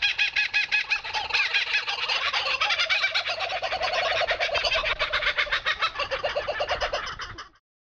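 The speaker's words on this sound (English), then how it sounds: "That was the sound of a kookaburra laughing" A kookaburra's loud laughing call, rapid cackling bursts rising into a raucous rolling chorus, close and clear, ending abruptly.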